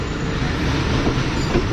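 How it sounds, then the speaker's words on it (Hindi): The Tezgam passenger train runs straight along the track past the main platform, giving a steady, loud rolling rumble with wheel clatter and a faint squeal, heard up close with no talk. "ट्रेन जो है हमारी वो सीधा जा रही है"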